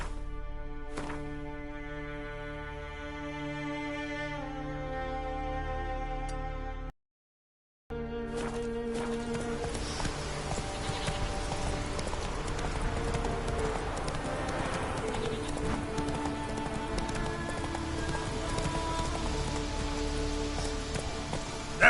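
Roach, a horse in The Witcher 3, trots through rain with rhythmic hoof clip-clops under a steady hiss of rainfall and game music, broken by a brief silent gap before the rain and hooves resume.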